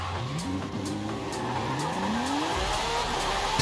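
A Lamborghini Sián (Super Sián) in Forza Horizon 5 revs hard, its engine pitch climbing steadily through the gears, loud and close, with tire squeal over a constant roar.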